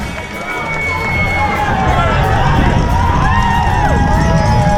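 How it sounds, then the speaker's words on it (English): Dense crowds line the course at Cutty Sark during the London Marathon, cheering and shouting loudly and continuously around passing runners, with whoops and calls rising out of a constant roar close by. "Just check out the crowd support."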